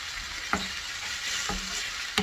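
A pizza filling fried in a pan, with a soft steady sizzle and three sharp spatula scrapes spaced about a second apart.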